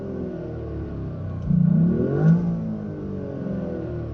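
A Toyota GR Yaris, heard from outside the car, revs its engine once in a short rising and falling burst over a steady idle, moderately close with no talk.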